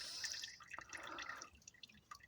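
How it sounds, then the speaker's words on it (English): Hot motor oil drips from the oil filter of a Chevy truck, quiet irregular patters and splashes close by, with no talking. "Let it drip some more."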